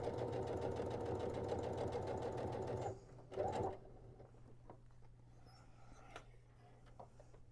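Sewing machine stitching a fabric tote bag, a steady close mechanical whir for about three seconds, then a short burst and quiet handling sounds after it stops.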